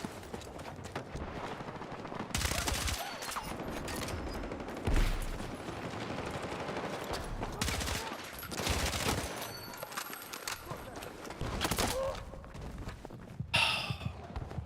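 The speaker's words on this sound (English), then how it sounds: "Gun, I'm using the VCR2. It's the DLC assault rifle from season 2." Automatic fire from the VCR2 assault rifle in the video game Battlefield 6 comes in repeated loud bursts over a noisy battlefield mix, with short pauses between volleys and scattered impacts and footsteps in the background.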